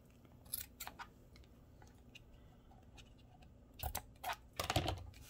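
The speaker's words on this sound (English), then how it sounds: "I'm going to give my bow a little trim." Scissors trimming a gift bow ribbon, a handful of quick snipping clicks scattered across a quiet room, with a denser burst of cuts near the end, close by and faint.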